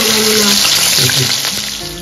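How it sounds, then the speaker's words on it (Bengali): Fish frying in a pan in a home kitchen, with a loud, steady sizzle and crackle running throughout, a few brief clinks and shifts partway through. "মাছের দিকে ভাজা হয়ে যাচ্ছে।"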